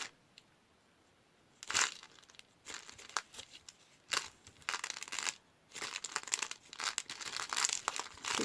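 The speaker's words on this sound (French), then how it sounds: "Je passe mon cutter tout le long sans couper." A utility cutter drags along packing tape on a parcel, giving bursts of crinkly scraping and crackling separated by short pauses, close and fairly quiet.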